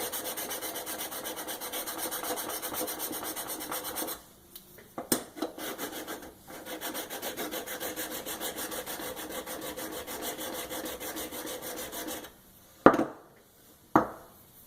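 A file rasping bluing off the metal of a Marlin Model 60 rifle, with long continuous scraping strokes, a short pause with a few knocks, then more steady filing ending in sharp clacks, close and without speech.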